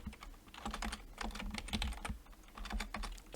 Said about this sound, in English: And then in here, we can type Ruth.